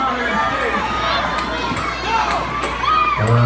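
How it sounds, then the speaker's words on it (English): Spectators at a roller-skating race during Safe Skate Night cheer and shout together in a steady, busy crowd roar, with children's voices and some nearby talk mixed in. "Guys, cheer them on."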